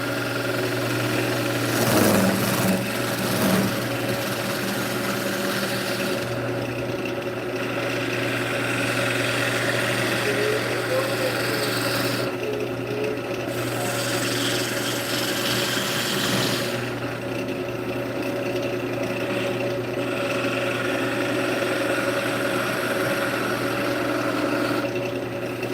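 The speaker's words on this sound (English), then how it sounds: "Never go up with the spindle gouge, always go down." A spindle gouge cuts wood on a spinning lathe: a steady motor hum and whirr runs throughout, with a continuous scraping cut layered over it and brief lighter gaps as the tool eases off.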